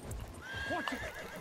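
A horse in the World War I shooter Battlefield 1 gives a quick whinny over hoofbeats and ambient battle noise. The sound is brief and moderately loud within the game mix.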